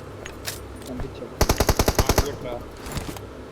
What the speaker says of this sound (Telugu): ఎవడో లాంగ్ కొడుతున్నాడు రా స్నైపర్.